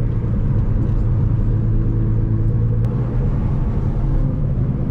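A Nissan R35 GT-R engine idles steadily through the clutch learning procedure, giving a continuous low rumble and hum that stays even and close throughout, with no throttle blips and no voices.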